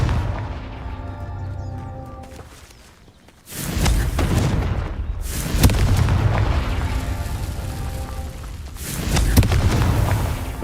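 Several loud, booming blasts from the Confringo fire spell in Hogwarts Legacy erupt one after another, each a heavy explosive burst with crackling tails, separated by a quieter lull and a fading musical tone early on.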